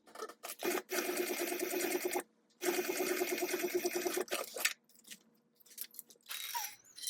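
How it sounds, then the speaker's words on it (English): A sewing machine stitches backpack lining pieces with a 3/8 inch seam, running in two long steady bursts separated by a short pause, followed by quieter scattered handling sounds and brief shorter runs. "stitch this all at 3/8 inch seam allowance"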